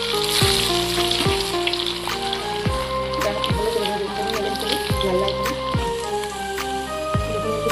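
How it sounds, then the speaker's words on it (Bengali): Suji pitha with a kheer filling fries in hot oil, a steady bubbling sizzle that stays close, while a quiet repeating descending tone recurs in the background. "এখন এটাকে তেলে ভেজে নেবো"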